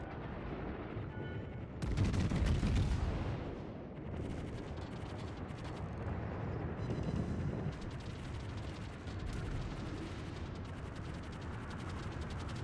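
Warship guns firing in the naval game World of Warships, heavy booming salvos over a constant rumble, one loud blast early followed by repeated rolling gunfire.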